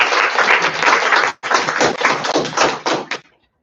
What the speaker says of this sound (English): So can we welcome her with a round of applause?